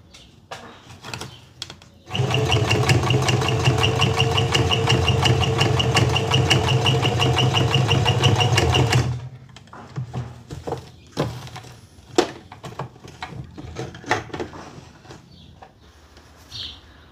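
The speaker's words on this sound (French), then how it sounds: "Voilà, je viens de coudre." A sewing machine stitching a wig for a beginner, whirring loudly and steadily for about seven seconds, then stopping, followed by scattered handling clicks and rustles.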